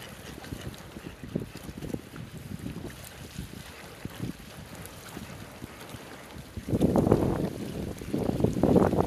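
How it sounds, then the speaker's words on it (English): Wind gusting at a reservoir on a family nature walk, buffeting the microphone with rough low rumbles that swell louder near the end. "I think wind's still blowing it"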